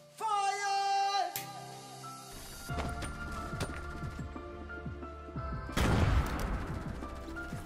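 Fortnite gunfire: several sharp shots crack in a loose sequence over game music and effects, with a denser burst of noise near the end.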